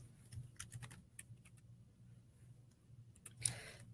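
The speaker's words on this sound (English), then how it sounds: "I'm going to type that in the comments." Quiet keystrokes on a computer keyboard come in a quick cluster of taps, then pause, then resume briefly, with a soft low hum underneath.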